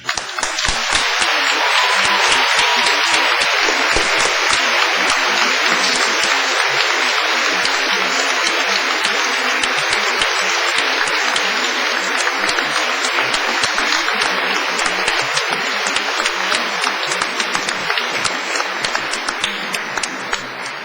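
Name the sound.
graduates' enthusiastic round of applause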